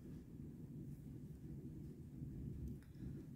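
Low rolling thunder from a thunderstorm, a steady rumble sustained through the whole stretch at moderate distance, with no speech over it.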